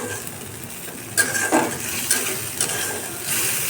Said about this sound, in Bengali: আলু পেঁয়াজ এবং মশলা, আদা বাটা, জিরা বাটা, হলুদ, লবণ দিয়ে কষাই নেওয়া হচ্ছে